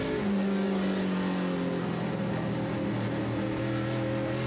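Race cars roaring around an oval track during a 75-lap qualifier, a dense, continuous engine drone with pitch bending slowly as cars hold their lines, heard from a distance without any voices.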